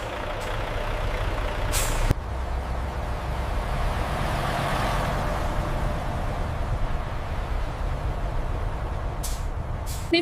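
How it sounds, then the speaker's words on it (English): Loaded trucks hauling freshly harvested potatoes to a processing facility rumble steadily nearby, with sharp air-brake hisses near the start and the end. "Fully loaded trucks carry freshly harvested potatoes toward the processing facility."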